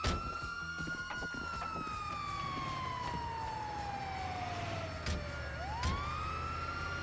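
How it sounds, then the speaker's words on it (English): An ambulance siren in Grand Theft Auto 5: a continuous wailing tone that slowly falls in pitch, then rises sharply again, over steady vehicle and game noise, with a couple of short thumps near the end. "it's the ambulance!"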